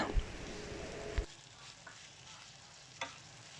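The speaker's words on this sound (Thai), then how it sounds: "ถั่วฝรั่งนี่แข็งนะคะ ผัดนานหน่อยนะคะ กว่าจะสุก" Green beans sizzle and scrape in a hot wok as they are stir-fried, with a couple of sharp clanks of a utensil against the pan.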